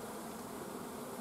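Honey bees gathering nectar at a hive fill the air with a steady, dense buzzing drone, continuous and fairly close, with no voices over it.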